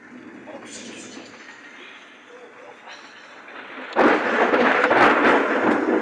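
Thunder from a lightning strike over a road in Brisbane, Australia: a low rumble builds beneath rain-like hiss, then a loud crashing roll breaks in abruptly and keeps rumbling to the end.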